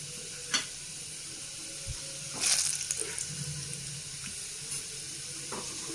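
Garlic frying in hot oil for Karnataka-style gongura dal, a soft steady sizzle with a few clinks and a brief louder spatter partway through, heard alone without talk.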